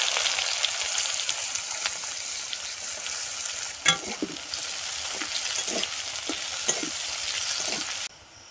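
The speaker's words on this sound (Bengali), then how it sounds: "পেঁয়াজটা ভাজা হয়ে গেছে" Chopped onion and cumin seeds fry in hot oil in a pan, a steady close sizzle running throughout with a few sharp crackles and stirring scrapes, then it suddenly drops away near the end.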